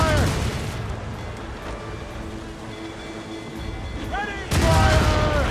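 Ship cannons fire in the Assassin's Creed Rogue video game, a booming volley at the start and another near the end, with a background of naval battle ambience between them.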